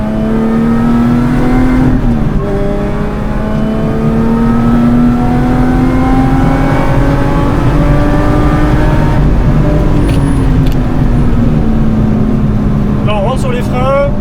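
A Lotus Exige S revs hard on the Ledenon circuit during a trackday, its loud engine note climbing and falling through gear changes, close and continuous, with rising whine near the end.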